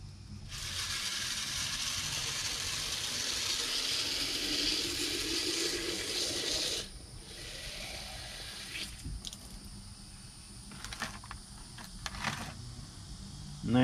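Water pours and gurgles steadily into bottles for several seconds, then gives way to quieter handling with plastic clicks, knocks and short splashes, close by and with no talking.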